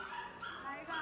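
A Teddy poodle at a dog market gives short high yips and whimpers under a nearby voice speaking.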